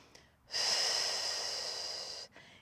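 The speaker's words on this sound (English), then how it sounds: "Each time I lower that left leg, I'm exhaling." A single long, forceful exhale during an exercise as a leg lowers, a breathy rush lasting nearly two seconds, close and clear, bracketed by quiet.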